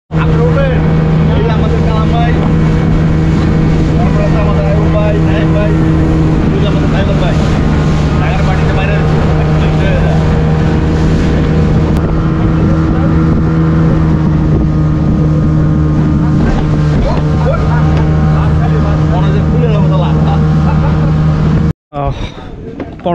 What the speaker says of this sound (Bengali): তো এটা আমার ফার্স্ট স্পিড বোট জার্নি আর কি, দেখি কেমন হয়।